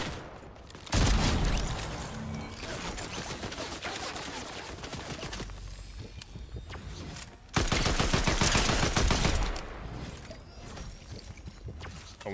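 Rapid automatic gunfire in a shooter video game, delivered as two long loud bursts of fast repeated shots separated by a brief lull, with no talking over it.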